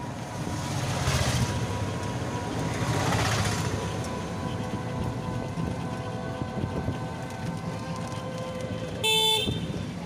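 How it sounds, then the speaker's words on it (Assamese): A bus ride out of Goalpara bus station: steady engine and road rumble with swelling, whooshing passes, then a brief horn toot near the end. "তো এতিয়া বাছ উঠিলোঁ"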